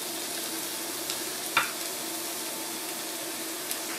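Pork chops fry in a hot pan with a steady, even sizzle, joined by a brief sharper crackle near the middle and a faint tap near the end.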